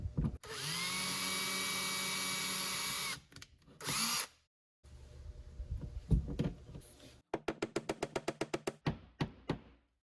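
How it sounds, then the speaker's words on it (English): A power drill whirs in a long close burst drilling a wall hole for a fire extinguisher mount, stops, revs briefly again, then bumps and a rapid series of sharp taps follow. "continue on by drilling that second hole so we can secure the mount with the screws"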